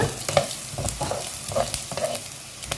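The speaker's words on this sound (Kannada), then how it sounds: "ಇದಕ್ಕೆ ಕೊತ್ತಂಬರಿ ಜೀರಿಗೆ ಮೆಂತೆ ಸಾಸಿವೆ ಹಾಗೂ ಕಾಳುಮೆಣಸು ನಂತರ ಕರಿಬೇವು ಇದಿಷ್ಟನ್ನು ಹಾಕಿ ಅದನ್ನು ಚೆನ್ನಾಗಿ ನಾವು ಹುರಿದುಕೊಳ್ಳೋಣ" Coriander, cumin, fenugreek, mustard seeds, black pepper and curry leaves dry-roast in a pan for sambar powder, with a soft continuous sizzle and repeated rhythmic scraping stirs close by.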